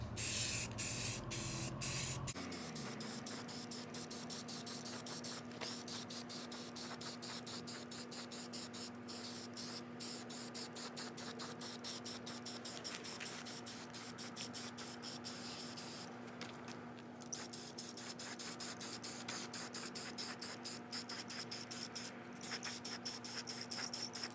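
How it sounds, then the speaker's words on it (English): A spray can hisses steadily and close up for a long stretch, with brief pauses and a few clicks along the way. "I'm gonna start to spray paint"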